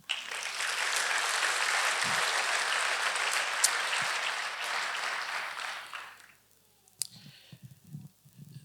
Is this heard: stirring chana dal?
no